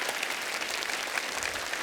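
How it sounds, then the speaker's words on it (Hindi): Studio audience applause on a Hindi comedy talk show, a brisk, even clatter of many hands heard steadily and at moderate distance throughout the short stretch. "एक बार जोरदार तालियां हो जाए"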